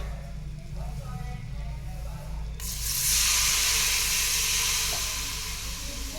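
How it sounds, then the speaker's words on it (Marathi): Water poured onto fried spices in a hot pan for a spicy toor dal, starting a loud sudden hiss and steam sizzle after a quieter stretch, close by and continuing steadily. "यामध्ये थोडंसं पाणी टाकायचं आहे आपल्याला"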